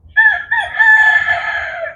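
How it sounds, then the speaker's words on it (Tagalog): A rooster crows once, loud and close, a long drawn-out call with a brief break near the start. "Hoy, tumihimik ka dyan. Manok."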